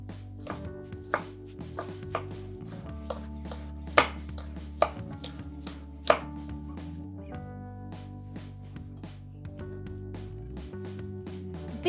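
A knife chops scallion into thin rounds on a cutting board, giving a steady run of close, crisp taps with a few sharper knocks, heard alone without voices.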